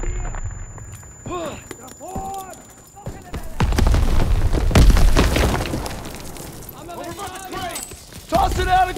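A grenade goes off in a Call of Duty: WWII battle, a loud, heavy boom swelling with a rumbling low roar and debris. It lasts several seconds and sits among game voices and battle noise, with a second burst near the end.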